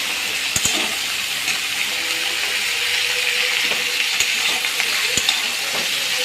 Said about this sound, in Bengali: পরিমাণ মতো নুন দেওয়ার পরে আমি আরও বেশ কিছুক্ষণ ধরে নাড়িয়ে নিলাম